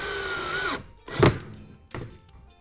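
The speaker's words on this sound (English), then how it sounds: "you can drive the other screw much more easily" A power drill briefly whirs driving a screw into a wooden floating shelf, stopping abruptly, followed by two separate dull knocks and handling thuds in a quiet room.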